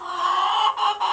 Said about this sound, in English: I've got some chickens